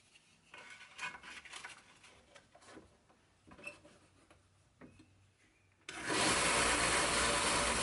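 Light metallic clinks and scrapes come first; then a belt grinder with a 600 grit belt starts up on a knife made from a farrier's rasp, a loud, steady, broad grinding roar that continues to the end.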